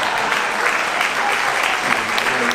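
Audience applause fills a theater during a mentalist's stage show, a steady dense wash of clapping held at even loudness throughout, with faint voices mixed underneath.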